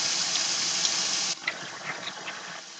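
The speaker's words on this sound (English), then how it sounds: "We're going to start washing our hands, okay?" Water runs from a tap for handwashing, a steady close hiss that drops and softens partway through, becoming a gentler splashing stream with small spatters.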